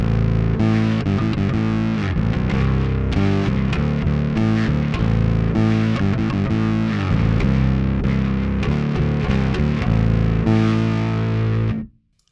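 A heavily distorted bass guitar through a Kemper Profiler plays a continuous, gritty riff with a thick, buzzing low end, loud and steady for about twelve seconds before stopping.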